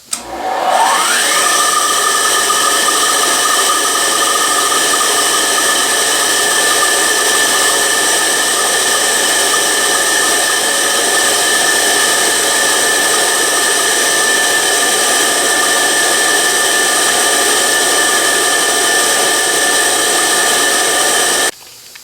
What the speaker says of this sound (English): turn the machine on, and machine that ejection port out